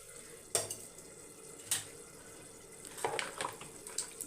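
Water splashes and trickles faintly in a kitchen while food is prepared for a pressure cooker, with a few sharper splashes and clinks over a quiet background.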